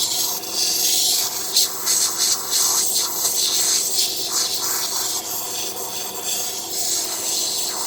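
A wooden intarsia piece being ground on a sander, giving a steady rasping, rubbing hiss that holds close and fairly loud throughout with small fluctuations, no voices over it.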